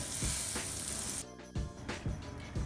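Butter heats in a pan over a low flame, giving a loud bright hiss with a few soft pops, broken by a brief quieter moment before the sizzle returns.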